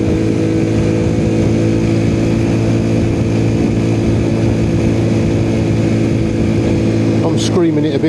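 A Honda C90 motorcycle engine held at high revs in second gear gives a loud, sustained, steady drone up close, with a brief burst of extra noise near the end.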